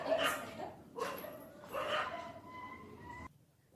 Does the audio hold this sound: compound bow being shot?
no